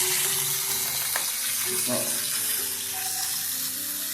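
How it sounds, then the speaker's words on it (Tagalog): Water gushes steadily from a leaking galvanized iron pipe, a broad continuous hiss like an open faucet running close by, with a voice speaking briefly over it. "dito po namin na rinig yung leak niya"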